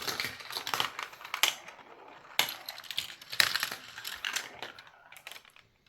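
Plastic marbles roll and clatter down a GraviTrax marble run, giving a scattered series of sharp clicks and rattling taps, louder bursts spaced irregularly amid lighter rolling ticks, close by.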